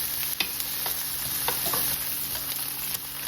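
Bologna slices and vegetables frying in a pan, a steady bright sizzle with scattered crackles and pops from the fat, close and continuous with no talk.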